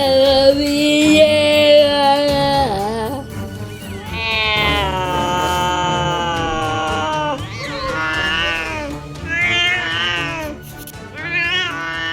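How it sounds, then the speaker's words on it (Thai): A cat meows and yowls loudly in long, drawn-out cries, several calls in a row with short pauses between them, close by and with no voices over them. "เล่นกับแมวอ่ะ แมวกัด"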